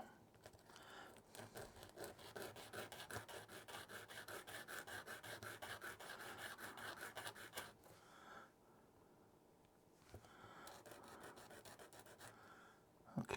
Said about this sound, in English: Clean my sanding stick off a bit.